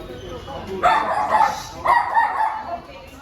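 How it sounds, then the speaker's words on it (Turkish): A dog barks a few times in short bursts, close by, with people talking around it, by the sea between Yeniköy and Beykoz, Istanbul. "Burada bir tane köpek çıkıyor."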